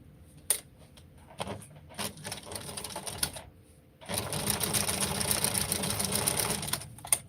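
A sewing machine runs a straight seam, starting in short halting bursts with a few sharp clicks, then settling into a loud, continuous mechanical whir for about three seconds before stopping; no talking.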